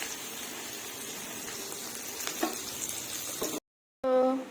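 Food sizzles and fries in a pan in a Bengali home kitchen, a steady close hiss with occasional stirring scrapes, cut off briefly before a short tonal sound.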